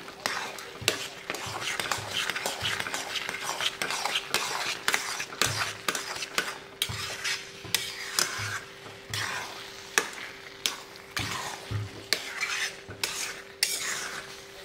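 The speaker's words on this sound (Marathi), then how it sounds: "आता थोडंसं मीडियम गॅसवर 1-2 मिनिटं परतून घेऊया." Carrot halwa with khoa being stirred in a pan over medium gas, a steady run of scraping spoon strokes and clinks against the metal with faint background sizzle throughout.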